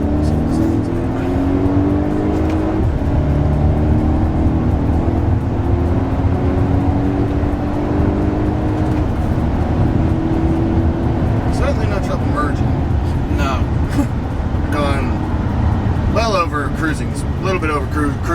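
Turbocharged engine of a 2016 Volvo XC90 T6 pulls hard, its rising tone stepping through smooth upshifts as the SUV accelerates, heard from inside the cabin under steady road noise while people talk over it.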